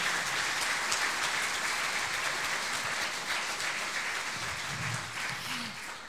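Sustained applause from a concert audience after an octet's performance at a CD launch concert, dense and steady for several seconds before easing slightly at the end, with no voices over it.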